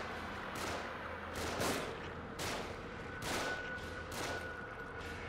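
Gunshots in the horror video game The Evil Within, a steady series of sharp, fairly quiet shots spaced about a second apart, with no voices.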